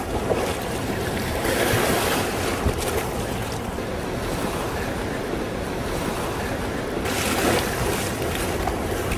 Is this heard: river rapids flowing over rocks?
yes